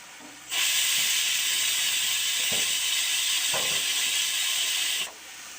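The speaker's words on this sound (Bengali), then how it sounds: "আর এদিকে প্রেশার কুকারের সিটিও পড়ে গেল" A pressure cooker releasing its whistle, a loud, sustained hiss of escaping steam that starts abruptly, holds steady for about four and a half seconds, then cuts off cleanly, with faint background noise before and after.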